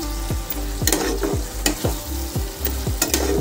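Paneer bhurji is stirred in a pan over high heat: rapid, rhythmic scrapes and clinks of a spatula sound close up over a constant crackling sizzle.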